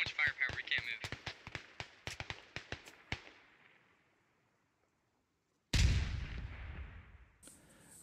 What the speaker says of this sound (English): Nade goes off.